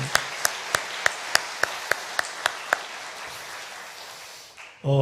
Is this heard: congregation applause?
yes